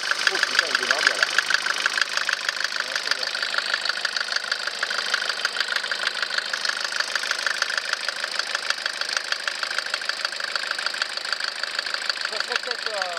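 A Mercedes Vito 110 TD diesel engine runs at a steady, knocking idle, a close, even clatter that continues throughout while people talk over it.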